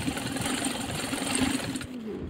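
A sewing machine runs in a steady whirring rhythm while stitching the side seams of a kameez, then stops abruptly near the end.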